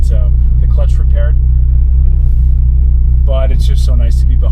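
A Ferrari Testarossa's engine rumbles low and steady throughout a drive, its constant drone sitting beneath someone talking.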